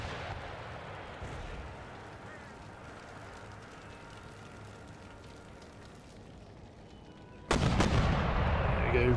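Mortars and artillery fire in an Empire: Total War battle, giving a steady rumble of distant cannon fire followed by a sudden loud boom near the end, with faint voices underneath.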